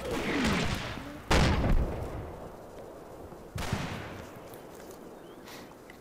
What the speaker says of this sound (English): my infantry is shooting at the armor